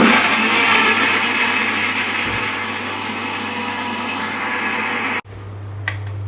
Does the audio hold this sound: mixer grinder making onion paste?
yes